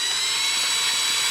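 A power drill's chuck tightens with a steady, close, high-pitched whirring motor whine that holds without a break.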